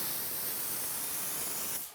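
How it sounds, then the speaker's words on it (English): An HVLP spray gun test-sprays water in a woodworking shop, a continuous loud airy hiss held steadily for nearly two seconds before it cuts off abruptly at the end. "since this is just water being sprayed out of this gun, it's running like crazy"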